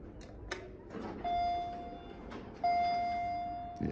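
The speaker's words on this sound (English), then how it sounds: "Let's put the chime." Two sustained electronic chime tones from a US traction elevator in an office building in Denver, the first at about one and a quarter seconds and a second louder one at about two and a half, each ringing and slowly fading over quiet room noise.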